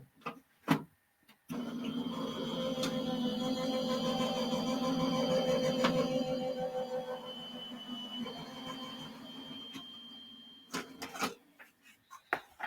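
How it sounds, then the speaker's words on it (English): An electronic die-cutting machine hums and whirs steadily for about nine seconds as it feeds a card through, bracketed by a few sharp clicks and handling taps before and after. "I'm going to run this through my cutting machine and cut that out"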